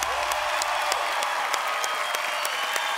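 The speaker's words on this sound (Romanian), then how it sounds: "Aplauze pentru Vulpoiul." Continuous dense applause from a studio audience on a Romanian Masked Singer television show, a steady wash of clapping with a few sharper claps standing out.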